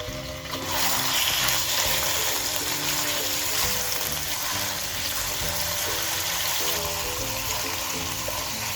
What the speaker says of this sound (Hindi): तेल गरम हो गया है, अब मैंने चिकन डाल देना है।